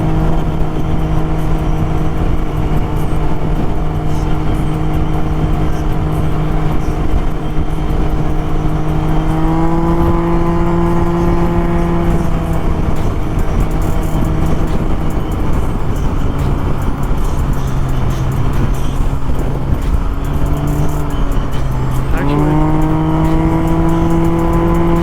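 A three-wheel car cruises and revs in a city showdown, its loud, continuous engine drone rising and falling in pitch over about twenty-five seconds with sharp revs midway and near the end.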